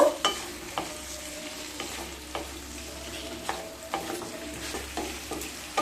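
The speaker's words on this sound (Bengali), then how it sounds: "এবার সমস্ত সবজিগুলোকে খুব ভালো করে ভেজে নেব।" Chopped onion, tomato, capsicum and potato fry together in a pan for capsicum potato masala, with a steady sizzle under repeated clinks and scrapes of stirring, close and moderately loud, no voices.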